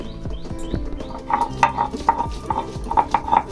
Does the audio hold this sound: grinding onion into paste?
yes